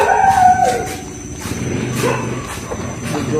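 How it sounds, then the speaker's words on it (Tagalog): Dogs bark and howl outdoors near a stranded vehicle, a drawn-out howl at first followed by a few separated barks at moderate distance over a steady background hum. "May aso."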